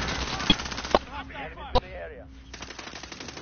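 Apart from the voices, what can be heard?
gunfire in a war video game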